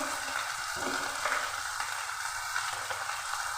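Ginger-garlic paste, turmeric and cumin powder frying in a pan for a silver carp and spring onion dish, a steady close sizzle with faint stirring scrapes throughout.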